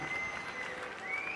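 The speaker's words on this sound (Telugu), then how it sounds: "గట్టిగా చప్పట్లు కొట్టి అభినందించండి" Steady applause from an audience at a public meeting, a dense even patter of many hands held at a low, distant level with no voices over it.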